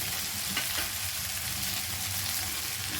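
Fresh green peas go into a frying pan for vegetable Maggi noodles, giving a dense, even sizzle that holds steady throughout. A faint soft bump comes early on.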